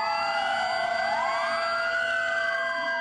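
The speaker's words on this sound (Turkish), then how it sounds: "Saat 9'u 5 geçe çalan sirenlerle tüm yurtta hayat durdu." A nationwide siren in Turkey sounded at 9:05 on 10 November in memory of Atatürk, a sustained wailing tone that rises and falls in pitch, steady and fairly loud throughout, with no voices.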